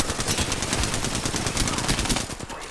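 Rapid automatic gunfire from a video game shooter match, dense bursts of shots crackling continuously and loudly throughout.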